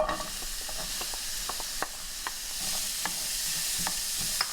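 Onion frying in olive oil in a pan over low heat, a soft steady sizzle broken by scattered light stirring clicks and scrapes, fairly quiet and close, with no voices.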